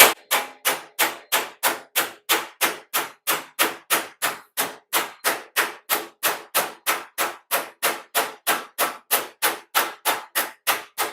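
A hammer pounds sheet metal against a 2-inch steel plate in a custom car shop, sharp evenly spaced metallic strikes repeating about three times a second for over ten seconds, close and loud with no talk.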